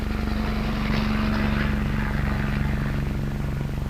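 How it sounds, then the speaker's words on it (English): Military helicopter with a Canadian Army experimental service battalion in 1963, flying on a cargo supply run from a corps refilling point to the forward area. A steady, loud rotor and engine drone holds unbroken for the whole stretch, with no voices. "helicopters may fly direct from the corps refilling point to the forward area"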